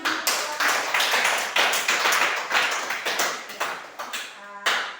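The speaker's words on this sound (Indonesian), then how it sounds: "Kita berikan tepuk tangan." A small group claps at the close of a school coaching presentation, with uneven bursts of claps rising and fading in waves, fairly close and moderate in level, ending with a single sharp tap.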